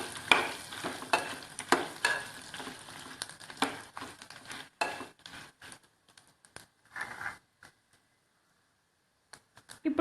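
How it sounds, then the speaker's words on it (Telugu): Urad dal, coriander seeds and cumin are dry roasted in a pan, the dry grains rattling and scraping under a stirring spoon in busy bursts that thin out and fall nearly silent toward the end. "మినపప్పు ధనియాలు కాస్త వేగేదాకా వేగించాలి."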